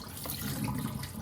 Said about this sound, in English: So you are going to take all the water out.